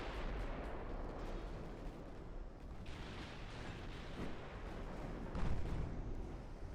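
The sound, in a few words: warship big guns firing in Ultimate Admiral: Dreadnoughts video game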